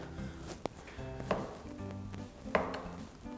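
A blade cuts through a block of beeswax, giving a few sharp chopping knocks and scraping cuts at close range against a faint background hum, with no talk.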